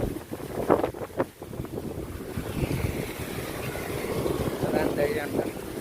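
Outdoor wind gusts during rainfall buffet the microphone in a rough, rumbling rush that swells and eases, with people talking over it.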